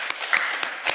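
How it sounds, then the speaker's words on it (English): Audience applause for everyone at a presentation session, a steady wash of many hands clapping at close range, with a few sharper claps standing out across the short burst. "a big round of applause for everyone"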